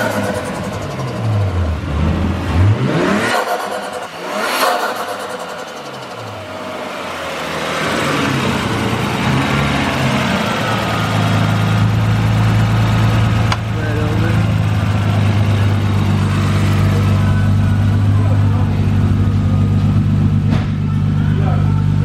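A car engine revs and then settles into a loud rough idle with a soda can rigged for turbo-like noises, the sound close and continuous, rising and falling in pitch, with people talking over it.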